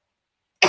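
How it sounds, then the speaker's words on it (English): A single cough bursts out suddenly after near silence, close and loud, cut off almost as soon as it starts. "I'm going to cough in a minute"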